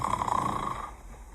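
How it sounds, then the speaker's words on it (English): A granny snores in a cozy bed in a quiet napping house: one long, drawn-out snore, fairly close and steady, fading toward the end. "a snoring granny"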